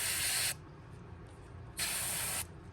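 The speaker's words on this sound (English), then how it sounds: "I'm actually spraying with my Sotar again tonight." Sotar paint spray gun applying paint to a fishing lure, two close steady bursts of airy hiss about half a second each with a pause between, no talking.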